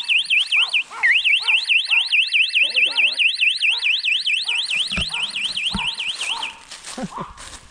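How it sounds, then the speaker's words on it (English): Electronic alarm wailing out in the woods at a campsite, a loud rapidly warbling tone that repeats for several seconds before cutting off, with voices and scattered knocks in the background. "we're setting off an alarm out here in the woods."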